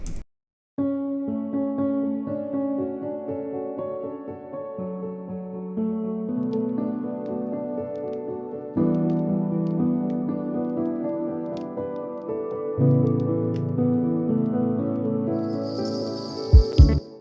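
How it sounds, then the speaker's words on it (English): A bright synth plays a steady, looping arpeggio with echoing repeats trailing each note, shifting chords every few seconds, with no voices. "So I added some delay with making the sounds like this."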